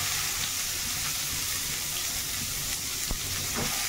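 Onion frying in a pan for Odia aloo chokha: a steady, even hiss of sizzling oil that runs continuously, close and moderately loud, with a few faint clicks and no speech.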